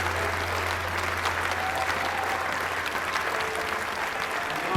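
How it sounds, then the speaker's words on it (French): A large audience at the closing of Gabon's inclusive national dialogue applauds loudly and steadily, a dense, unbroken wash of clapping from start to finish. "nous pouvons nous lever pour acclamer fortement et adopter"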